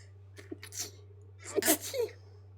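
A single close sneeze preceded by a short sharp intake of breath, with a steady low hum in the background.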